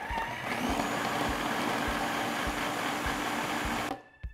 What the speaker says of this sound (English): so we've blitzed our tomatoes and our onions real quick